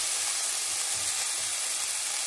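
A paprika filling half-cooks in a frying pan, giving a steady, close hiss of steam and soft sizzle with no speech.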